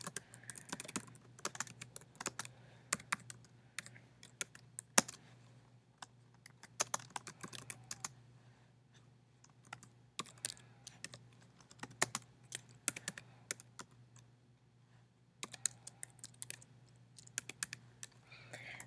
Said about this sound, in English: I'm going to type an email